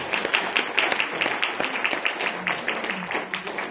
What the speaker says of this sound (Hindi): तो इनके लिए जोर से ताली बजाएं।